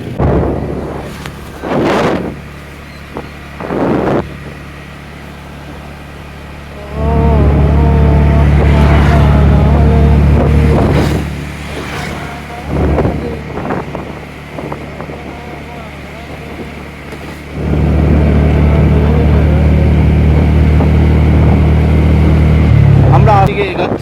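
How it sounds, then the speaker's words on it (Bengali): Car on a long drive, with a steady engine and road rumble that swells and fades alongside bursts of wind buffeting the microphone, and a voice talking at times. "আস্তে আস্তে করে লং ড্রাইভ করছি"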